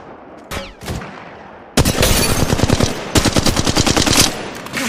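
Automatic gunfire in the mobile battle royale Apex Legends Mobile: a brief early shot, then two loud, sustained bursts of rapid rattling fire close up.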